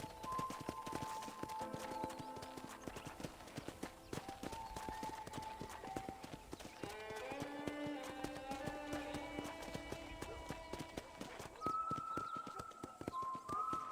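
Horse hooves in the video game Red Dead Redemption, a steady rhythmic clip-clop of riding that continues throughout under a gentle musical score, with no voices.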